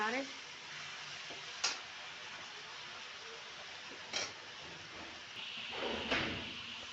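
Onions and grated tomatoes with spices fry in a pan, giving a soft, continuous sizzle with a few sharp scraping stirs spread through it, and someone talks over the cooking.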